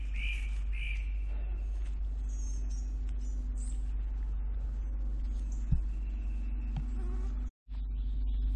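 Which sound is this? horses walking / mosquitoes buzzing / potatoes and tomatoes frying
mosquitoes buzzing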